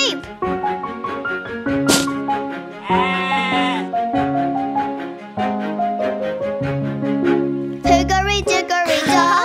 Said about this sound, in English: Oh, a sheep!